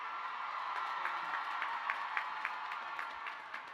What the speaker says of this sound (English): I now invite your attention and applause for those students who are graduating with honors and special distinctions today